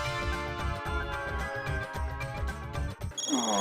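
A telephone rings continuously with a bright, repeating electronic tone pattern, loud and close, with no voices over it.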